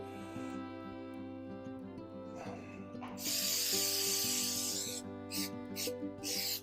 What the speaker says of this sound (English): we are going to use our favorite baking spray.